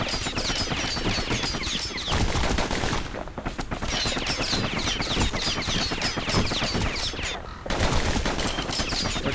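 Dual pistols in Bastion fire in rapid, relentless bursts of dense sharp shots, loud and close, with only short pauses.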